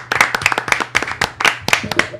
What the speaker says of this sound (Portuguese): Uma salva de palmas para esse time.